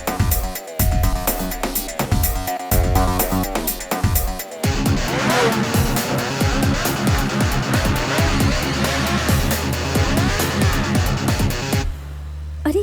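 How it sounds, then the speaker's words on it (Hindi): Motorbikes ridden roughly on a road roar past loudly, engines revving hard with squealing, skidding tyres and dense mechanical noise throughout, the roar dropping away at the very end. "कैसे बाइक चला रहे हैं ये लोग?"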